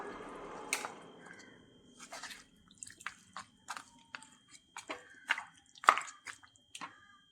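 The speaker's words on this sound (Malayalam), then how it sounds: "ആവശ്യത്തിന് വെള്ളമൊഴിച്ച് ഒന്നുകൂടി നന്നായിട്ടൊന്ന് ഇളക്കി കൊടുക്കാം" Stirring a spicy black chicken (karinkozhi) curry after adding water: soft wet squelches and drips, with a spoon scraping and clinking the pot at an irregular pace, quiet and close.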